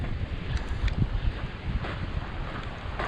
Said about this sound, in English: Windy, bit windy